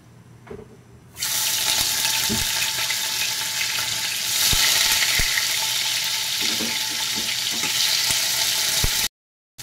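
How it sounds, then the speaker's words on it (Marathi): Paneer drops into a hot kadhai where cashews were just roasted, setting off a sudden, loud, steady sizzle that runs on evenly with faint pops before cutting off abruptly near the end. "पनीर मी त्याच्यामध्ये घालत आहे।"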